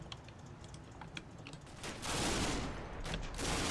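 Scattered gunfire from distant troops crossing a field in a Combat Mission war game, a few sharp crackling shots early and then a louder, denser burst of fire that stays steady to the end, with no talk.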